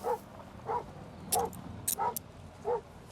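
A police dog gives a series of short, evenly spaced barks or yips, moderately distant, with a few sharp clicks in between.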